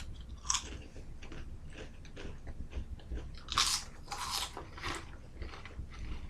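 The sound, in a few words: crunching Lay's potato chips while eating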